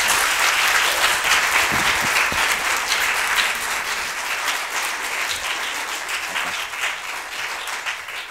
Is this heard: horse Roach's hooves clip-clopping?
no